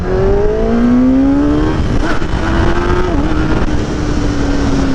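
A 2021 Kawasaki Ninja ZX-10R motorcycle accelerates hard, its engine note climbing steadily through the gears with a short dip at each shift, loud and close over heavy wind rush.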